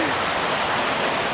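Ban Gioc waterfall on the Vietnam border pours with a loud, dense, continuous rush of falling water, close and steady throughout with nothing else audible.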